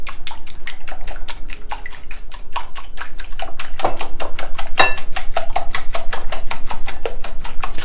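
Eggs seasoned with salt being beaten for an egg coating: a quick, regular tapping of a utensil against a bowl, loud and close, keeping a steady fast rhythm throughout with no talk.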